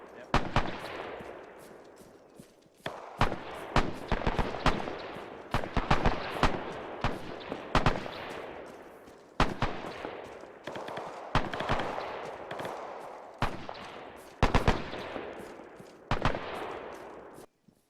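Gunfire rattles through a British military simulation in Arma 3 set in World War II, with dense overlapping rifle and machine-gun bursts and loud close shots echoing, some fainter distant fire, and occasional voices underneath.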